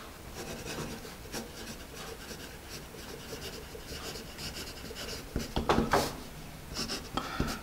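A Dixon Jumbo pencil's marks being erased with its attached eraser, giving soft continuous rubbing and scrubbing on paper with a few louder strokes near the end, close and alone.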